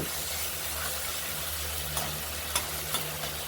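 Potatoes and spices sauté in oil in a pan for aloo paneer rasa, giving a steady, soft sizzle with low background hum and a few faint clinks near the end.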